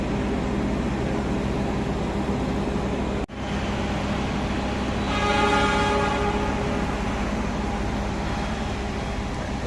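An economy passenger train runs on rails near Kroya, giving a steady loud rumbling drone with a brief sharp dropout partway through and a faint tonal whine rising midway.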